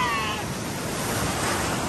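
Ocean surf at My Khe beach in Da Nang, a steady broadband wash of breaking waves with some wind noise, continuous and fairly loud with no voices.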